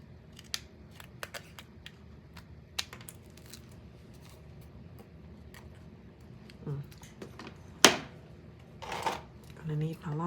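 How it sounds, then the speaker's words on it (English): Scissors snip through paper while a mini album is being made, a scatter of faint, close cuts spread unevenly over the span, with a few louder crisp snips and handling noises toward the end. "I'm gonna use my scissors to cut this part off."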